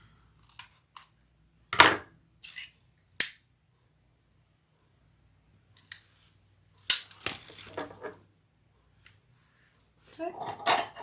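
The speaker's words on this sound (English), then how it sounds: "And I'm going to just trim my zipper." Scissors trimming a zipper while making a leather crossbody bag: sharp, separate snips and clicks in small clusters with quiet gaps between them, close up.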